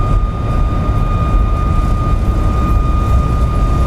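Boeing 737 Max 8 engines spooling at takeoff thrust on a wet runway in the X-Plane 12 flight simulator, a loud, steady broadband roar with sustained tonal whines running evenly throughout, no voices.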